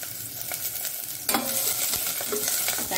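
Chopped onion added to a couple of spoons of hot oil in a pan for an ivy gourd green masala: a sudden burst of loud sizzling and crackle that keeps hissing steadily up close, with no voices.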